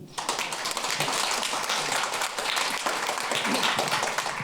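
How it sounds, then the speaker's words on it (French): Audience at a Christmas show applauds a guest called up to speak, a dense burst of many hands clapping steadily for a few seconds, fairly close and lively. "On l'applaudit"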